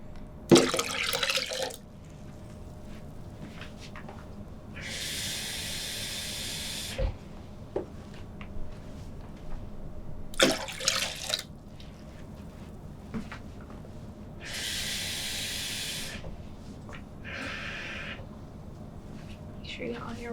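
Water pours in separate bursts into a pitcher for hand-squeezed lemonade, several short rushing splashes spaced apart with quieter gaps, and voices talk in between.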